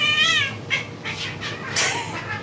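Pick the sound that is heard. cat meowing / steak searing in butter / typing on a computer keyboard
cat meowing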